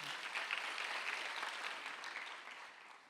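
A church congregation applauds during a Sunday worship service, a soft, distant wash of steady clapping that gently fades over about three seconds with no voices.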